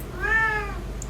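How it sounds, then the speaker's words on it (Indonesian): A cat gives a single clear, close meow that rises and falls over about half a second, with no one talking. "kamu udah dikasih ayam, masih ngeong-ngeong, 3 paha ayam"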